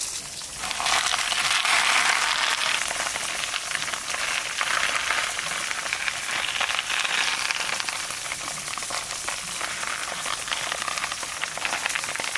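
Fish hits hot mustard oil on a leaf and a loud, bright sizzle starts within a second, crackling steadily and evenly for the rest of the time.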